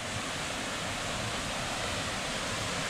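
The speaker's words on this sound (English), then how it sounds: "it's just runoff, dirty runoff from the road" Dirty road runoff water pours steadily into a small jungle stream, a dense, continuous rushing wash that holds at the same level throughout with no voices.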